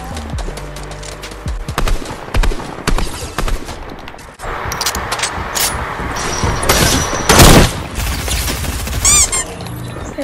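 Sniper rifle fire in an arena shooter game, a run of sharp cracks and bursts scattered across the stretch, some loud and close, mixed with other game clatter and no talking.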